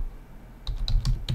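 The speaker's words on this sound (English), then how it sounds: "I haven't had to type this in a while." A burst of quick computer keyboard typing starts partway through, several close clicking keystrokes in a rapid cluster with no talking over them.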